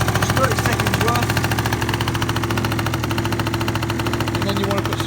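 Peugeot Speedfight 50cc scooter engine idling steadily with a rapid, even two-stroke putter, close and fairly loud throughout, with no talk over it.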